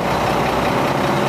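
A 1994 Mack DM690S water truck with a 4,700-gallon single-compartment tank idles with a steady, even, close diesel rumble, with no voices.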